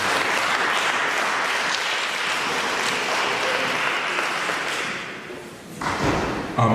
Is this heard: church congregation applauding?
yes